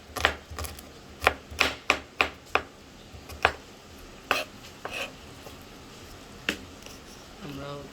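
Garlic being finely chopped with a knife on a cutting board in a kitchen, a run of sharp, close knocks in an irregular rhythm, a few at a time with short pauses, over faint room noise.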